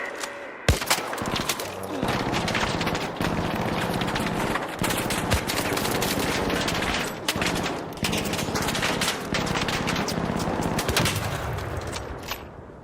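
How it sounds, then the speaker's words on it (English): Dense video game gunfire from Arc Raiders: rapid automatic bursts and scattered shots crackle almost nonstop at close range, with a brief lull near the middle before the firing resumes. "Stop shooting me, ho."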